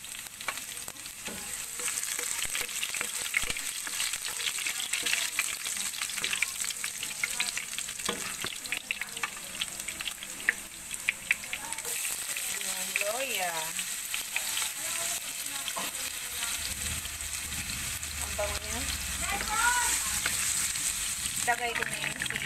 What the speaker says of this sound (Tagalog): Ayan, gigis ako na siya.